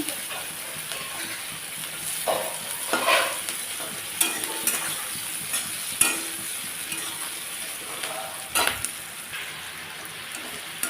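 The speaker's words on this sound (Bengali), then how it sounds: "পটলটাকে একটু লাল করে ভেজে নিতে হবে" Pointed gourd pieces frying with green chillies in hot oil make a close, steady sizzle, while irregular spatula scrapes and clacks against the pan come every second or two.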